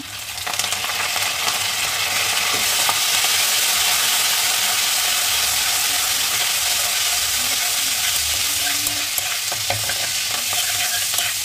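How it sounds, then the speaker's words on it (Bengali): Curry leaves frying in hot oil for a Mumbai-style vada pav, giving a loud, steady crackling sizzle throughout with occasional light stirring scrapes and no voices. "যখন একটু ভেজে যাবে তখন এই তেলের মধ্যে আমি দিয়ে দেবো, প্রথমে দেবো কারি পাতা"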